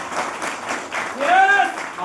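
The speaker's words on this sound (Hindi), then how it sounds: "जोर तालियां।" Crowd clapping in a hall during a motivational talk, a rolling patter of applause with a voice calling out loudly over it midway.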